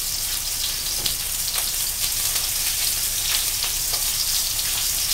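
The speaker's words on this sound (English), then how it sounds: "So you can see it's frying away." Steady, crackling sizzle of sausage and garlic frying in oil, with dense popping spatters close up and no voices.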